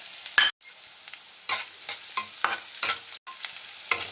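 Cumin, chopped green chilli, garlic and ginger sizzle in a hot pan for a fenugreek-leaf bhaji, broken by repeated close stirring scrapes in uneven bursts with brief pauses.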